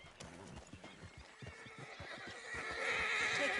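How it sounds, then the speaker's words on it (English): Horse in Red Dead Redemption II neighs and whinnies amid clip-clopping hooves, the rhythmic hoof beats steady underneath while the whinny swells louder toward the end against game ambience. "Damn horse acting up on me of all the times."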